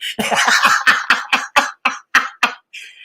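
A rapid series of harsh, hacking coughs, about ten bursts in quick succession, close and loud, ending with a short throaty rasp.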